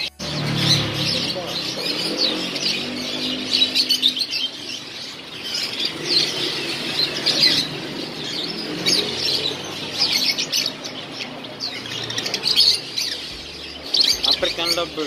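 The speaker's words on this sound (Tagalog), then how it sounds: "African lovebird." A flock of African lovebirds chirp and squawk in a busy, continuous chatter, shrill calls overlapping throughout with occasional wing flutters.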